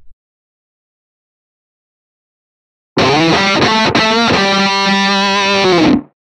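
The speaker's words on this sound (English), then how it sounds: "This time from the stomp box category, we're going to choose the octave fuzz." Electric guitar played through an octave fuzz stomp box effect on a Line 6 Firehawk, with the rig turned up for a rock lead; after three seconds of silence, a loud, sustained distorted lead phrase rings out alone for about three seconds.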